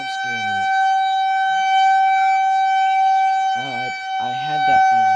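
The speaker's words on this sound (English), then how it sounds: "I don't want to be jump scared by the sirens just going off." An outdoor warning siren on a tower in Ohio drones loudly and continuously at a steady pitch, with a person talking briefly nearby under it.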